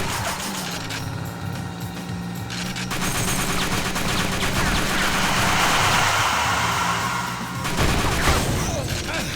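Continuous Tommy gun fire in the TimeSplitters 2 video game, loud sustained automatic bursts rattling on without pause, mixed with other game noise and booming effects.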